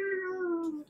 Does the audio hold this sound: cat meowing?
yes